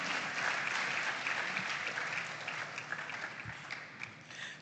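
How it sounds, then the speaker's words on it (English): An audience at a school farm awards grand final gives a round of applause for the coordinator. The clapping is fairly soft and a little distant, and it slowly thins toward the end. "Please, a round of applause for him."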